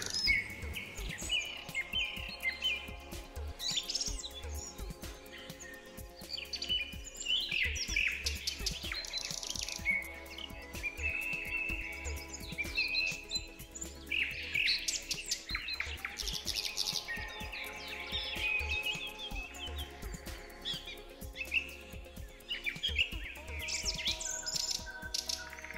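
Birds sing and chirp among trees, with bright repeated trills and tweets layered over a soft, sustained musical background, steady throughout at a gentle level.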